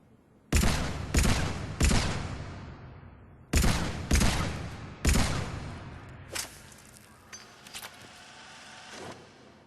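The Carnifex pistol from Mass Effect 3 fires six loud, sharp shots in two groups of three, each crack ringing out with a decaying tail, followed by fainter distant impacts.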